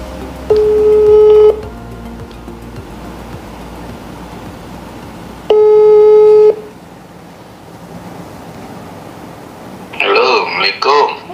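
A phone call's ringback tone sounds while waiting for an answer: two loud, even tone bursts about five seconds apart over background hiss, followed by a voice answering.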